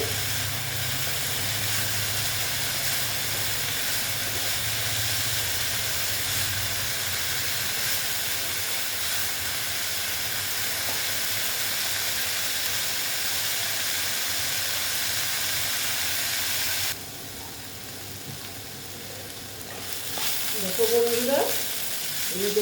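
Red amaranth greens fry in a pan with a loud, steady sizzle and hiss that runs close and unbroken, easing slightly near the end as faint stirring knocks come in.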